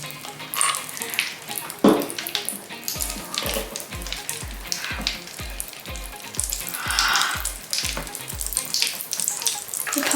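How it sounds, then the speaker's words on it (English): Popping candy mixed into messy slime gives a steady wet crackle and fizz, joined by squelching and handling noises and a rhythmic low thumping in the middle. "The popping candy is getting louder and louder."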